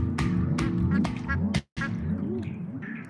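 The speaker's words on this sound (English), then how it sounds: "Can you hear the ducks quacking in the background?" Ducks quack repeatedly in quick, overlapping calls, loud and close, with a brief silent break partway through before the quacking resumes.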